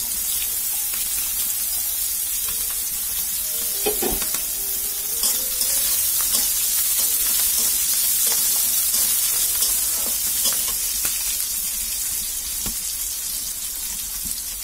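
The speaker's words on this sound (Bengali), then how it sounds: "রসুনটা একটু নাড়াচাড়া করে নিয়েছি" Garlic and chopped onion fry in oil in a pan while being stirred, making a dense, steady, close-up sizzle with occasional utensil scrapes and taps over about fifteen seconds, with no voices.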